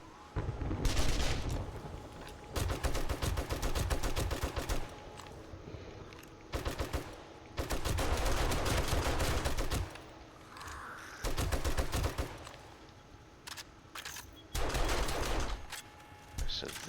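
Automatic weapon fire in the survival game 7 Days to Die, loud bursts of rapid shots repeating in clusters separated by short pauses, with a voice talking in between.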